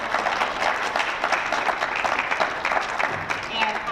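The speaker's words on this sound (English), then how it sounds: "So I would like for you to give your parents and your families a round of applause" At a National Honor Society induction ceremony, the audience applauds parents and families, with steady crowd clapping running continuously at even strength throughout.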